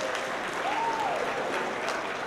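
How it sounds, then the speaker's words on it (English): Applause from a crowd, a dense, steady clatter of many hands clapping at once. "Give yourselves a round of applause."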